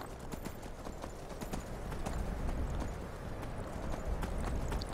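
Horse hooves clip-clopping in the Skyrim video game, a quick irregular run of hoofbeats over steady background noise, fairly quiet and continuous.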